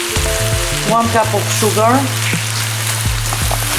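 Two packs of cranberries hit a hot skillet and crackle and sizzle steadily at close range, while a person speaks over the frying.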